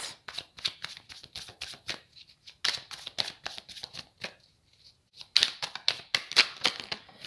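Tarot cards are handled and shuffled in quick, crisp riffling bursts close by, with a short pause midway before a louder flurry of snapping card sounds.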